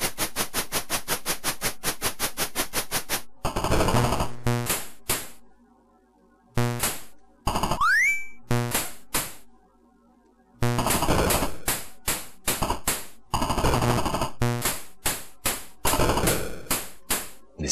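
Rapid bursts of electronic shooting and enemy sound effects from the Commodore 64 game Space Talisman, chippy staccato blasts broken by short silences and a quick rising sweep, loud and without speech.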